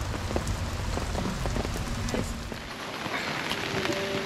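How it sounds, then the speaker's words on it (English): Heavy rain from Hurricane Ida on a Tennessee farm, a dense, steady downpour pattering hard on surfaces nearby with no voices. "Hurricane Ida has hit and it's been raining for a couple days"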